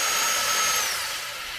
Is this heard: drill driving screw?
yes